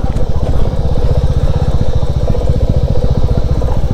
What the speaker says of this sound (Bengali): একদম বাইকটা আস্তে আস্তে নিয়ে নামতে হবে, ফার্স্ট গিয়ারে রেখে হালকা হালকা পিছনের ব্রেকটা মারতে হবে এইসব রাস্তায়।